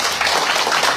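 A church congregation claps hands together in a brief, loud, dense burst of many overlapping claps.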